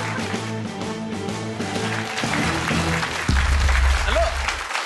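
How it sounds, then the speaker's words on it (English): An audience applauds continuously and fairly loudly as deep, sustained musical tones play underneath, and a voice surfaces briefly near the end. "Give them a round of applause, everyone."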